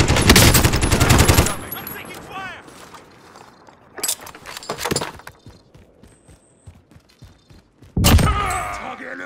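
Automatic gunfire from a first-person shooter video game, loud bursts at the start and again near the end with scattered shots and mechanical clicks in between.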